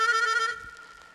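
A chromatic harmonica plays a short trill, a bright reedy tone fluttering quickly between notes for about half a second before fading into quiet room noise.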